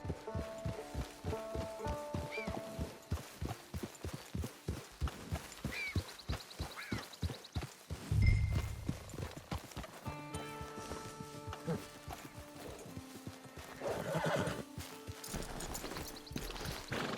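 Horse hooves in Red Dead Online thud in a steady walking rhythm, close and clear, with a brief heavier knock midway and musical tones and ambience layered over the later part.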